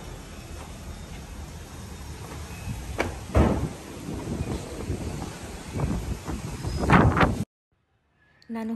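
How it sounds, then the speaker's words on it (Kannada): Strong wind buffets outdoors on a rooftop before rain, roaring and gusting against the microphone with a few thumps and bumps, then cutting to silence near the end. "ಅಷ್ಟು ಗಾಳಿ ಇದೆ ಇವತ್ತು"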